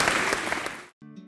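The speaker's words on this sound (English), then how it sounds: "This year, our seniors, let's have a round of applause." Banquet audience at a high school football event applauds the seniors, a dense wash of clapping for most of a second before cutting off, followed by a brief tonal musical sting.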